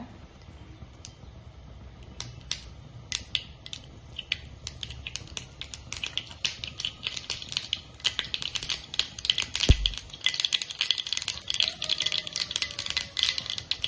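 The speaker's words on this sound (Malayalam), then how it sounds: "കടുക് ഒന്ന് പൊട്ടട്ടെ" Mustard seeds splutter in hot oil while a Kerala-style dish is being cooked, giving faint, scattered crackling pops that grow denser and louder toward the end.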